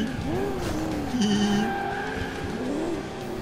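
A car engine drones steadily in the driving game Alarm für Cobra 11, with a rising and falling tone and a brief tire squeal partway through, close and continuous.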